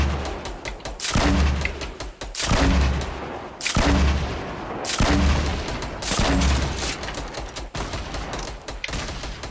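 A video game shootout brings repeated heavy blasts of rocket fire and gunfire, loud bursts about a second apart with ringing decay between them and no talk.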